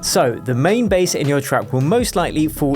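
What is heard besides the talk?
None of the usual background noises is heard.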